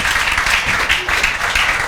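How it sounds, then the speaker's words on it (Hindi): Students in an IIT JEE maths coaching class clap for a classmate, a short, close burst of applause with no one talking. "बजाओ तालियां।"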